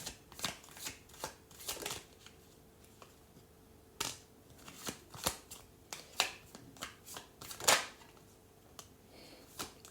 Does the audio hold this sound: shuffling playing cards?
yes